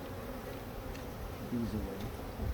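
Bees buzz steadily in a low drone during a hive inspection after a swarm, with a few louder passes drifting close; no talking.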